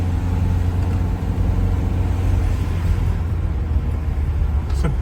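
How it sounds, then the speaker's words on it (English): A camper van engine labours up a steep Cumbrian mountain pass, a steady loud low rumble and drone with road noise, continuous throughout and close by, with a brief gear-change whine near the end. "You can hear the van struggling to get up a bit now, so we drop down to third gear"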